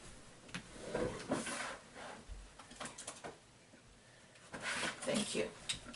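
A plastic drawer in a craft workspace slides open and shut in a few short, rattling scrapes and bumps, with people talking alongside.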